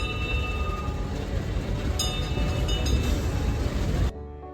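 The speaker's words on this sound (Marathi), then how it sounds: "हे आहे आपल्या ट्रेनचं इंजिन." Matheran toy train at Matheran railway station, a steady loud rumble of the engine and wagons with metallic squeals near the end, continuous and close before cutting off abruptly.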